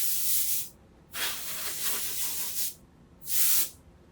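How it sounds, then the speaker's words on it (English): Compressed air sprays dust off the display of a 21.5-inch Late 2009 iMac during an SSD upgrade, in three sharp hissing bursts of about one second each, close and alone. "So before we go any further, we'll just spray all this dust off the display."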